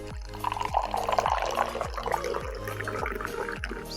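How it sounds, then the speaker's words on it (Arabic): Hot tea pours from a teapot in a steady close liquid stream with a rising fill tone, accompanied by a repeating low rhythmic thump underneath, no voices. "هي انك توجد واحد البراد داتاي سخون طايب."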